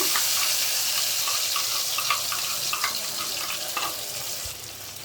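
Mustard paste cooking for pabda fish sizzles and bubbles in a pan with a steady hiss, punctuated by small pops and crackles, at moderate volume with no talking.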